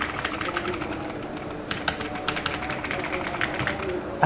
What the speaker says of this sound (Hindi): मैं इसका आपको साउंड इसके क्लिक साउंड जो है मैं आपको सुनाने की कोशिश करता हूँ माइक करीब ले जाके